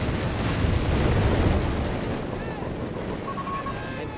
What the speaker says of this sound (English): Rout squad being met with machine gun fire from the bunker and the Fallschirmjaegers.